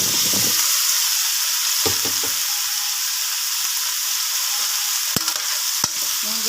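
Vegetables sizzle steadily as they are sautéed in a frying pan with a constant hiss, and a few sharp scrapes and clacks of stirring break in near the end.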